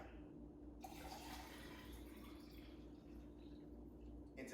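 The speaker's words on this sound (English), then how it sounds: "we're gonna fill the rest of it with warm cider" Warm apple cider poured into a glass over a shot of Fireball, a steady liquid pour and trickle heard up close at a low level, running throughout with no talk.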